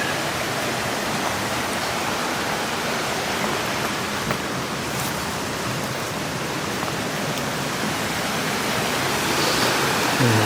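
A mountain stream rushes through jungle, a loud, unbroken broadband roar of flowing water that holds steady and close with no voices.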